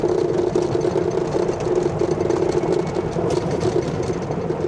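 A Tractor Supply golf cart accelerates with a steady low engine drone and hum, continuous and fairly loud throughout, with no talk.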